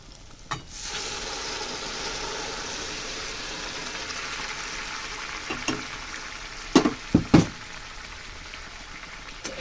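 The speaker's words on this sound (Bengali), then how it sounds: "এই জলটাই আমি ঢেলে দেব এবার গরম জল ঢেলে দিলাম" Hot water poured into a Bengali-style katla fish curry, with a sudden rush at the start and then a steady, close bubbling simmer broken by a few sharp pops and clatters near the end.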